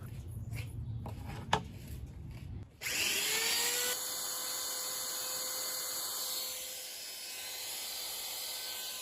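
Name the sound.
rotary tool carving a knife handle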